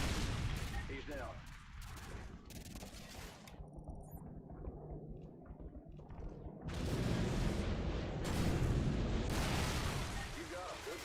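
Gunfire rattles through a Call of Duty: Modern Warfare 2 (2009) battle, with sustained bursts and heavy impacts near and loud, and radio chatter over the top.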